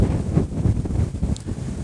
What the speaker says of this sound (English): As you can see, it's very windy.